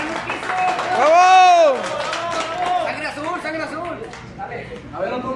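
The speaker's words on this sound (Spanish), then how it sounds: "Un aplauso para Adrián" Audience at a youth sports event cheers and claps for a young player named Adrián, a lively burst of shouts and applause mixed with excited voices, swelling briefly then continuing as loose crowd chatter.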